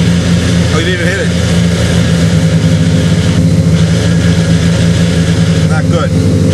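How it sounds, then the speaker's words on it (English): A loud engine idles high and steady, with a constant low rumble and drone that holds unbroken for the whole stretch. "And the engine's idling high, too?"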